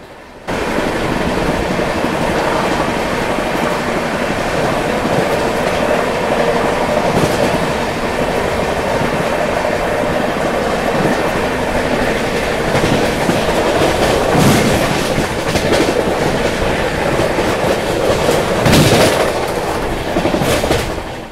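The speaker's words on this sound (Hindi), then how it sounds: "राइट नाउ अभी हम बमरौली रेलवे स्टेशन को स्किप करने जा रहे हैं।" Rewa superfast express from Anand Vihar Terminal, heard from an AC coach, runs steadily on the rails past Bamrauli station near Prayagraj. It gives a loud, continuous rumble with a clickety-clack wheel rhythm throughout, and no one speaks.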